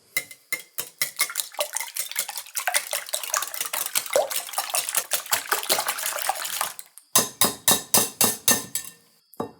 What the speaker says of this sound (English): Let's give these a good whisk.